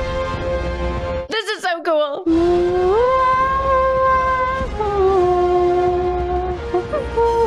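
Sustained tonal horn-like notes over rumbling movement, with a short burst of voices, from a train scene with music in the film Kingsman: The Secret Service.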